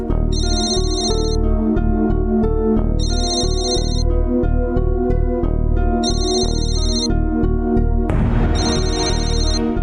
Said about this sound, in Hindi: ये फोन तो लगातार बज रहा है